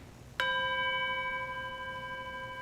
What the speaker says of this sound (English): We open our service with the ringing of the bell